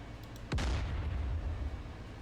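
Tank cannon fired in the combat game DCS Combined Arms: a single loud, sharp boom at about half a second, followed by a low rumbling tail that lingers to the end, with no talking.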